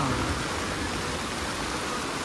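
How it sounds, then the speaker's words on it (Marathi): Heavy monsoon rain pours down in a steady, dense hiss that fills the air evenly, with no distinct thunderclap standing out. "चांगलंच गडगडते आणि पाऊस काय थांबना."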